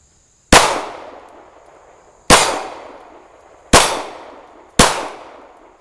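Four loud, sharp pistol shots ring out alone at uneven intervals, each with a ringing decay, from a semi-automatic handgun firing a mixed batch of ammunition that included a light load failing to eject.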